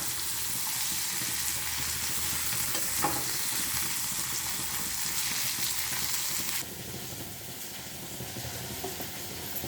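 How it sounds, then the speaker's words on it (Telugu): Small bitter gourds, already fried, being stirred in a pan, a dense continuous sizzle with scraping and shuffling throughout that drops slightly in level near the end. "ఇప్పుడు వేయించిన కాకరకాయలు అనేటివి నేను యాడ్ చేశానండి. యాడ్ చేసి మళ్ళీ బాగా కలుపుకోవాలి కొంచెము"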